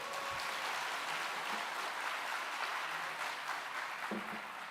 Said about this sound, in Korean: 우리 박수 한번 보내줍시다.